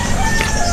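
Chickens cluck and a rooster crows close by at a beach resort in Matabungkay, a steady farmyard chorus over low background noise.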